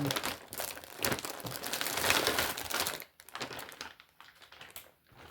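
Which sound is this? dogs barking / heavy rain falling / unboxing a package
unboxing a package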